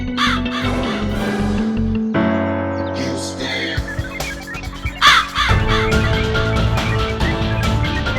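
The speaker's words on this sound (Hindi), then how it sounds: "वो रहा मेरा दुश्मन काला कौवा" A black crow caws in a film scene, its harsh calls sounding over a dense musical score that swells and shifts throughout.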